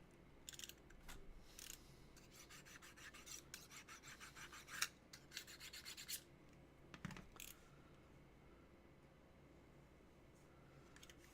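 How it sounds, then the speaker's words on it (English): Sharpening a dull blade while making a costume gauntlet: rapid raspy rubbing strokes in a steady back-and-forth rhythm, quiet and close, pausing briefly before a final few strokes. "I gotta sharpen this guy."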